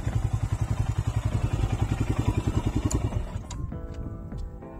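A Royal Enfield single-cylinder motorcycle engine idles with a steady, loud thump on a sunny hilltop in rural Slovakia, then is switched off and sputters to a stop, leaving quieter ambient noise and faint clicks.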